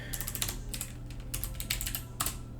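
Typing on a computer keyboard, a quick irregular run of close, light key clicks in short bursts with brief pauses, alone without talk.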